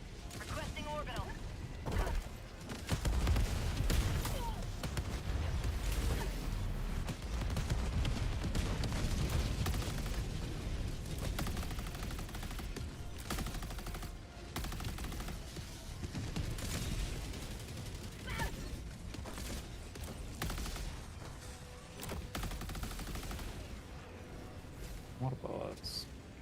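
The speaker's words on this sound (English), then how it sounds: "Requesting orbital strike." A Helldivers 2 orbital strike bombardment crashes through dense, continuous booming and gunfire, loud and chaotic for the whole stretch, with voices talking over the barrage.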